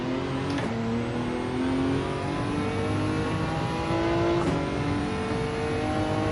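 A Nissan GT-R revving hard and accelerating through its gears in the racing game Gran Turismo 7, with the steady, loud engine note climbing and shifting.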